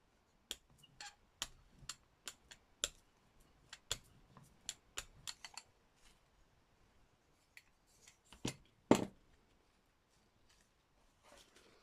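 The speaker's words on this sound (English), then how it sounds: "I wouldn't normally cut napkins, but needs must." Sharp snips of scissors cutting paper napkins, a dozen or so irregular clicks spaced apart, close and fairly quiet, with a louder cluster near the end.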